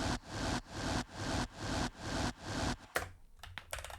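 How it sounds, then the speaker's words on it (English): Harsh, hissing bursts of unfiltered synthesizer noise pulse in a steady rhythm, roughly twice a second, then stop suddenly, leaving a few faint clicks. "Let's listen to the noise without the filter really quick."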